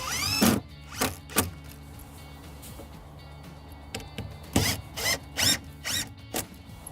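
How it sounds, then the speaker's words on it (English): Screws are driven in with a power driver to fix a gable in place, giving several short whirring bursts separated by pauses, close and moderately loud against a quiet background. "And insert the 2 back screws."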